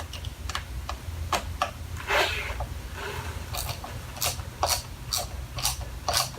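Tightening the secondary clutch bolt on a 2014 Suzuki KingQuad 750 AXI ATV, heard as a run of crisp, irregular metallic ratchet clicks close by in a quiet workshop.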